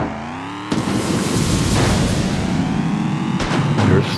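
Nitro boost kicks in during a Fast & Furious Arcade race: a sudden loud engine surge with a whooshing rush and rising revs, sustained and close, with a sharp burst near the end.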